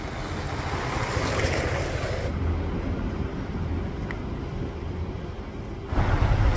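Sea waves at the shore of Marina di Vietri on the Amalfi Coast, a continuous broad wash of surf with some wind, steady and moderately loud, with no talk.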